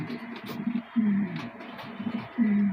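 Giribaz pigeons coo in repeated low, throaty phrases, close and clear, with a few wingy rustles between calls and no talk.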